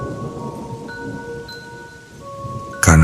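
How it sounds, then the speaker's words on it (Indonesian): Heavy rain pours steadily in Bandung during an afternoon downpour, a dense continuous wash with faint tonal hum, ending in a sudden loud burst. "Hujan turun sangat deras dari jam 4 sore."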